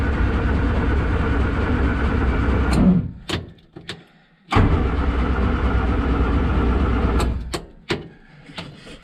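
A Morris Minor cranks on ignition but does not start: two long, loud, close bursts of steady starter churning with a short pause between, then a few sharp clicks.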